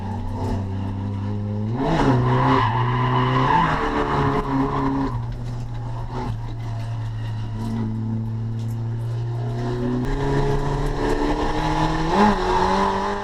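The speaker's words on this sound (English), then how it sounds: "As you can see, we've gone for another big Scando, learning how to pump the handbrake" A car slides through a Scandinavian flick on a race track as the driver pumps the handbrake. The engine revs loudly and rises and falls over several seconds, with tyre squeal and skidding mixed in, close and sustained, with no talk.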